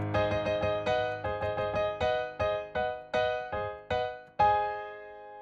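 A grand, fanfare-like passage of parallel chords from a song in A Little Night Music, with rapid repeated chords giving way to slower, accented strikes that end on a sustained ringing chord.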